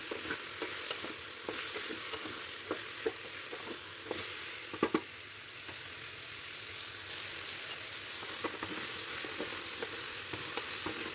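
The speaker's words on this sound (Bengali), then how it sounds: "টমেটোটাও দিয়ে আমি নাড়াচাড়া করে নিচ্ছি 2-4 মিনিট" Chopped tomato fries with daliya khichuri in a pan, giving a quiet, steady sizzle. Occasional soft scrapes and taps come from stirring, and there is no talk.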